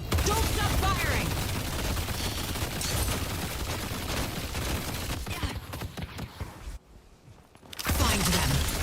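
Dense gunfire in the hero shooter Deadlock, crackling bursts and impacts layered with game effects through most of the stretch, dipping briefly near the end before resuming, with a voice talking over it.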